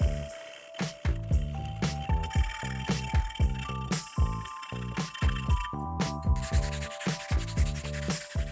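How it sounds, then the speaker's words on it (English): A strap of emery cloth is worked back and forth over steel welds, rapid rhythmic rasping strokes that stay close and steady with faint metallic ringing. "A strap of emery cloth will even out the surfaces."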